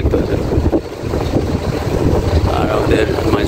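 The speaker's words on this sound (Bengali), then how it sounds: "আমাদের নৌকাটা দোলছে বাতাসের, সেই লেভেলের ঝড় আর কি বাতাস এই জায়গায়।" Strong wind buffets a rocking boat at sea off the Maldives, a loud continuous low rumble and roar of gusts hitting the microphone, close and unbroken.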